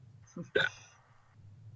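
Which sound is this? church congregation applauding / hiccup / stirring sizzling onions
hiccup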